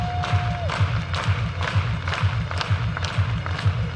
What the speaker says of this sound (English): Start with some overhead clap.